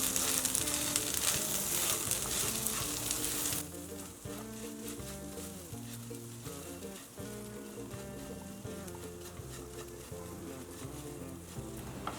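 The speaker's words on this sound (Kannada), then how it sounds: "ಲೋ ಫ್ಲೇಮ್ ಇಟ್ಕೊಂಡೆ ಈ ಥರ ಮಿಕ್ಸ್ ಮಾಡ್ಕೊಳ್ಳೋಣ" Spiced potato samosa filling sizzles and crackles in a pan on low flame while being stirred, a steady hiss with soft scraping, louder at first and then settling to a gentler fry.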